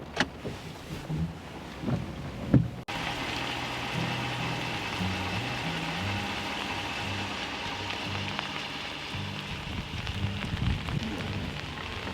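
Steady rain falls on a Pacific Northwest river during a drift-fishing outing, a dense, even hiss that continues unbroken after a short burst of handling noise near the start.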